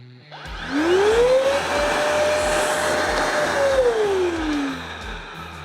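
A Procraft VP20 cordless vacuum cleaner rated at 200 watts switches on with a rising whine, runs at a steady loud pitch for several seconds, then winds down as it is turned off.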